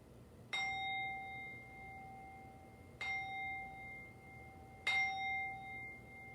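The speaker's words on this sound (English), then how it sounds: "on the count of 3, bell sound." Three struck strikes of a meditation bell spaced a couple of seconds apart, each a bright clear ring that lingers and fades over a quiet, hushed background, with no talk.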